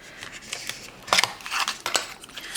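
A few sharp snipping clicks of scissors, close and crisp, with brief quiet gaps between cuts.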